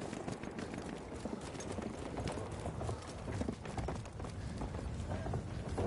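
Rapid clip-clop of horse hooves in Battlefield 1 running steadily throughout, close and fairly loud over a dense, noisy background.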